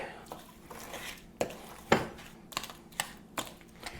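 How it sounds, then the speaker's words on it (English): Cookie dough of butter, sugar, egg, salt and almond extract being stirred in a bowl for Scandinavian sandbakkels, giving scattered clinks and scrapes of a utensil against the bowl, close and fairly quiet. "now we are gonna go ahead and stir this mixture together"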